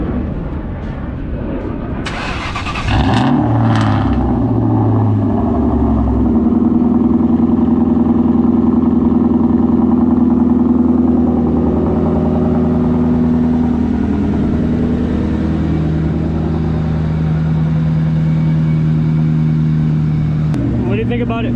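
A straight-piped 2001 Cobra engine starts with a loud burst, then settles into a steady, throaty idle that carries on near and loud, with people talking briefly over it.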